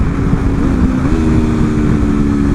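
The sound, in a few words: 2024 Aprilia RSV4 motorcycle engine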